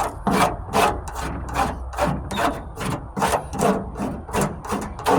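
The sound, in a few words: cheese grater file rasping on a Ford Ranger tailgate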